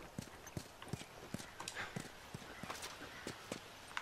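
Horse hooves in The Last of Us video game: a steady, quiet trot of evenly spaced clip-clops, alone with no one speaking.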